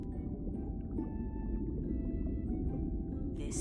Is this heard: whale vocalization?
yes